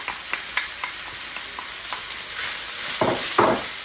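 Browned lamb stirred with onion and garlic in a pan for a massaman curry, with a steady sizzle under scraping strokes that grow louder and heavier near the end; no talking.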